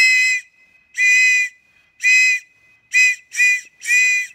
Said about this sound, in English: you want to do it with the whistle?